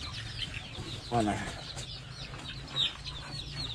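Free-range village chickens, including one showing early signs of snot, cluck and squawk close by in short bursts, with a louder squawk near the start and another near the end over steady background chatter and farm noise.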